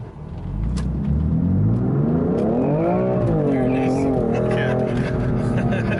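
A 2018 BMW M3 engine rises in a quick rev as it downshifts, a loud close cabin drone swelling and easing with the shift while talk continues over it.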